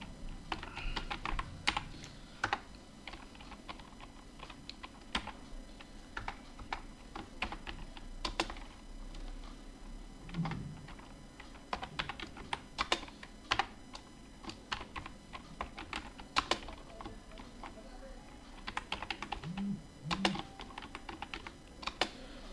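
Typing on a computer keyboard while entering data into an Excel spreadsheet, with irregular bursts of fairly faint key clicks scattered over about twenty seconds, no talk.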